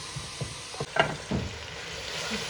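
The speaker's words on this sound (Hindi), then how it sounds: "देखिए मसाला तड़प रहा है।" Spiced masala paste frying in oil over high heat for a moong dal, crackling and sizzling steadily with a few soft stirring scrapes, close and fairly quiet, no talk.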